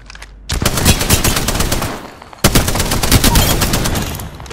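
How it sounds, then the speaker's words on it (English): Rapid automatic gunfire in the battle royale game Apex Legends, loud and close, in two long rattling bursts separated by a brief pause, with no voices over it. "Shots fired at me"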